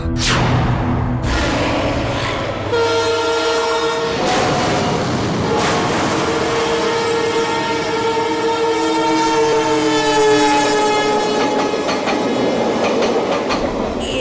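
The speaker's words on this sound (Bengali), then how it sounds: "এটা বড়ই অদ্ভুত স্টেশন, তার উপরে নামটাও অদ্ভুত, ব্লারা জাংশন" A train at a railway junction station rumbles loudly and continuously with clattering wheels, while long horn blasts sound repeatedly over the noise.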